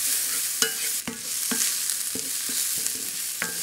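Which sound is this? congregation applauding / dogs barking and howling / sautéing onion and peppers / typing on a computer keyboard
sautéing onion and peppers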